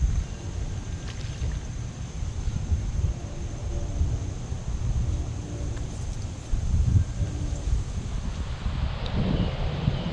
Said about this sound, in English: The wind got up right as I turned the camera up.